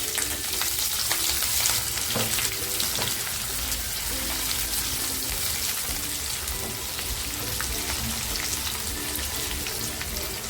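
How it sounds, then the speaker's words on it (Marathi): Whole spices, chopped onion and garlic fry in a pan with a dense, continuous close sizzle, steady and loud throughout, with a few faint stirring clicks and no voices. "थोडेसे हलकेसे फ्राय करते त्याच्यामध्ये जो कापलेला कांदा होता आणि लसूण ते टाकते"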